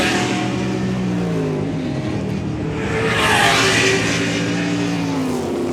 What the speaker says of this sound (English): Anthony Scrowan looking low and mean in that Lotus 30, coming down number 7 down towards Woodcote